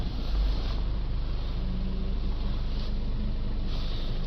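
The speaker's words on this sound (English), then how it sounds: "start the engine." A car engine starting and running steadily at idle after the ignition is switched on, a constant close low rumble with no talk, during a particle filter fault procedure.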